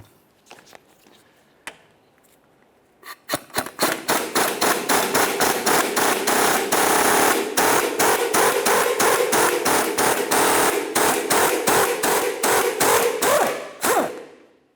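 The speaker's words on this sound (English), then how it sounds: "I'll give it a couple loving bonks just to help drive it out" Steady, rapid hammer blows strike a control arm bolt on a 2005-2010 Chevrolet Cobalt, dozens of sharp metallic impacts in a loud, even rhythm that runs for about ten seconds after a few quieter taps, with no talking.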